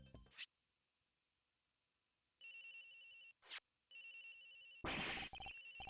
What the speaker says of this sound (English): Agent Hicks' phone. It's ringing from somewhere